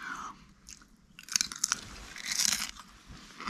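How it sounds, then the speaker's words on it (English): Close crunching of crinkle-cut potato chips being bitten and chewed, a few sharp crisp bites followed by softer mastication, near and fairly quiet with no talking. "Then I got some crinkle chips."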